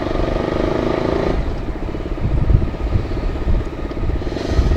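Modified Yamaha R15 V3 sport motorcycles ride along in a group, a steady engine drone with rumbling wind and road noise from the rider's own bike, loud and continuous throughout.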